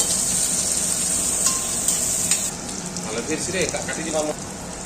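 Onions frying in oil in a pan, a loud continuous close sizzle with crackling pops and stirring scrapes, with a voice speaking over it partway through.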